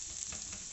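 Fried pink onions tipped into minced keema with okra in a hot pan, giving a brief, steady close-up sizzle with faint stirring texture.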